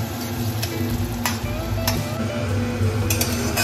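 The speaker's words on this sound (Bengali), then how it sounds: "পেঁয়াজটাকে হালকা বাদামি রং করে ভেজে নিয়েছি।" Onions frying in oil until light brown for chicken kosha, a loud, close sizzle broken by repeated scraping stir strokes against the pan.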